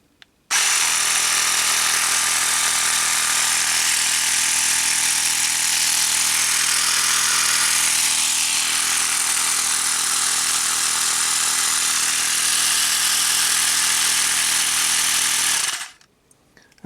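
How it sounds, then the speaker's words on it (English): A Xiaomi Mijia 5V 150 PSI mini air pump compressor switches on and runs for about fifteen seconds, a steady loud buzzing motor whine with a rattling hum, then stops abruptly, heard close with no talk. "you press the middle button here, which starts the pump"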